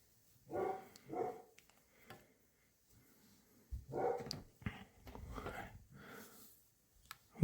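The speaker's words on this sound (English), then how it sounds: "I'm going to go really quick and try to see what those dogs are barking at and get them to stop barking" Several dogs barking outdoors in short bursts, a pair of quick barks followed by a longer run of barks and yips, moderately distant with quiet gaps between.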